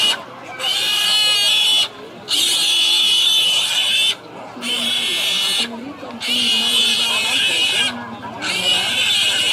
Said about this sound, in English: Pigs squeal.